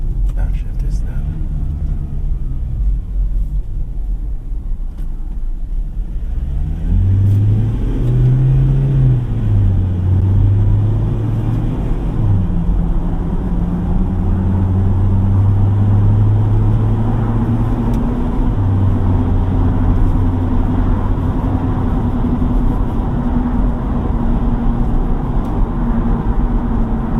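A 2018 Ford Ranger Wildtrak 4x2 engine, heard from inside the cab, rising and dropping in pitch through several gear changes in manual mode, a steady low rumble under continuous cabin noise.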